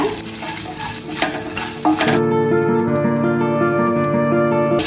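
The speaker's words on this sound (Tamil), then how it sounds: "இது பார்த்திங்கன்னா நம்ம மீடியம் ஸ்லோவில் வச்சு தான் வதக்கிட்டு இருப்போம்." Onions with chana dal and urad dal are sautéed over medium-low heat, giving loud, close sizzling and stirring scrapes for about two seconds before music takes over.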